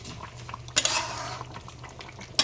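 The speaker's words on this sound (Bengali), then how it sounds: "ঢাকনাটা তুলে নিলাম।" A metal lid lifted off a cooking pot of jackfruit curry cooking with prawns, with a sharp clank and broadband clatter near the start, a sustained hiss of steam after, and a second brief clink at the end.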